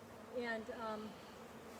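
Honey bees buzz around an open hive during an inspection, a brief wavering drone close by that swells and fades over about a second, with a short spoken word over it.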